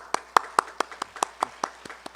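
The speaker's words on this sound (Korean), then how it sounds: "우리 그 자리에 잠깐 일어나시면 환영의 박수로 환영하겠습니다." Sparse, distinct hand claps in a church Sunday service welcoming a visiting couple, about a dozen separate claps in a loose rhythm, fairly faint and close, with a low background hum.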